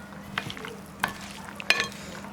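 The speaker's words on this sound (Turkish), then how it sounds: "Şimdi karıştırıyorum böyle." A spoon stirs red lentils cooked with a little water in a pot, giving a few soft scrapes and clinks at an uneven pace, alone without talk.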